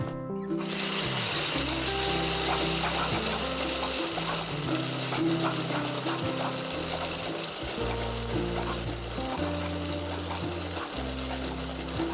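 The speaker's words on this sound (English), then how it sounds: "it's just a salsa maker food chopper." A steady, busy mechanical whirring and clicking of a hand-cranked salsa maker food chopper, turning continuously at close range with rhythmic ratcheting.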